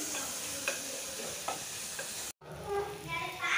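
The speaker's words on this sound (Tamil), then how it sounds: "இதெல்லாம் கொஞ்சம் வதங்கட்டும்." Tomato, green chilli, curry leaves and ginger-garlic paste sauté in a pan for snail gravy, a steady close sizzle with a few soft stirring scrapes and a brief drop-out partway through.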